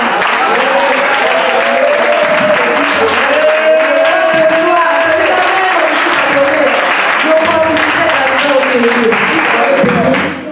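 A church congregation at a testimony service gives loud, sustained applause that fills the room, with cheering voices mixed in throughout.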